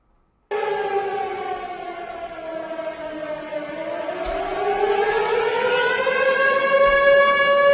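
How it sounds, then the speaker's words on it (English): A loud siren starts abruptly and wails steadily, its pitch sagging then rising again, sustained throughout. "I got to hit my siren"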